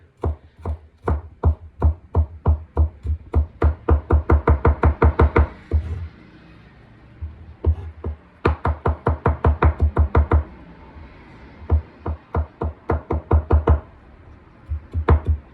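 Vegetables chopped finely for ratatouille with a knife on a board: fast, loud, close rhythmic knocks in long runs, broken by short pauses, with no voices.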